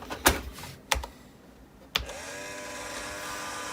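A failing floppy disk drive in an old DOS computer gives three sharp mechanical clunks spaced about a second apart, then settles into a faint continuous whir and buzz, close-up with no talking.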